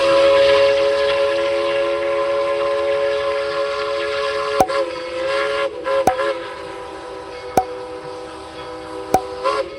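Steam locomotive number 190, the Yukon Queen, a superheated engine on the Tweetsie Railroad, sounds a steady, loud whistle chord held throughout, broken by four sharp chuffs or exhaust bursts spaced a second or two apart.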